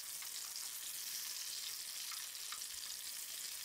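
Chicken leg pieces fry in a pan with a steady, hissing sizzle, and faint soft stirring touches come through now and then as the pieces are turned.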